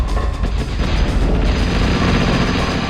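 Grenade explosions in Spy Fiction, loud continuous booming with rattling, mechanical crackle, close and heavy throughout with no pauses.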